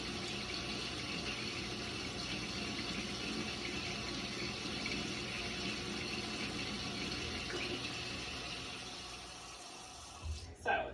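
Water runs steadily through a Norvell Zgun spray gun during cleaning, a continuous close hiss and gush that tapers slightly before a few knocks at the end.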